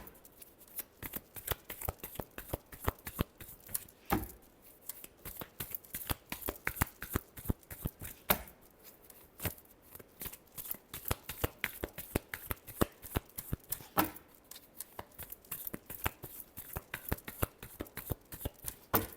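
Tarot cards being shuffled, rapid crisp riffling clicks repeated in bursts throughout, close and fairly quiet with brief pauses between shuffles.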